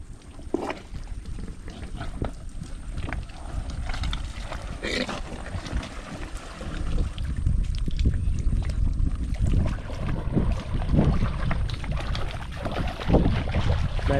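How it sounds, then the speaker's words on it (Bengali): A small wooden fishing boat is pushed down into the water, giving close, rough scraping and sloshing that grows louder and denser halfway through, with splashy water movement and some wind rumble. "নৌকা নামানো হচ্ছে"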